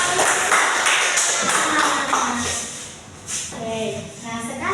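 A small group in a school counseling session claps together: a burst of dense, fairly close clapping that fades after a few seconds, followed by talking.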